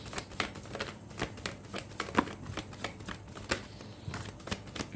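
Tarot cards being shuffled close by in a steady run of soft flicks and papery slaps, fairly quiet, with a faint background hum and no clear talk over it.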